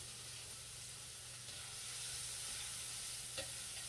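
Tomatoes dropped into a hot pan already holding garlic and onion give a steady, moderate frying sizzle with soft stirring, continuous throughout and slightly louder toward the end, with no voices.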